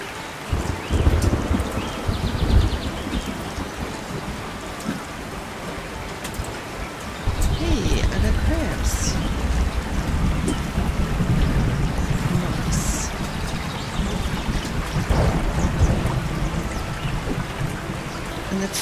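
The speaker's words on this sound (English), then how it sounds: "The frequency of the storms is way too much." Steady rain and rumbling thunder from a thunderstorm in the video game Wigmund, a continuous downpour with a louder surge partway through, under occasional speech.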